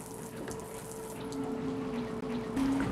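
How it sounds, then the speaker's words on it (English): Tap running with hot and cold water on the deck of a Sunreef 74 sailing catamaran in strong wind, a steady close hiss of flowing water with a faint tone that rises and brightens near the end. "I'll just turn on this tap. Hot and cold water, of course."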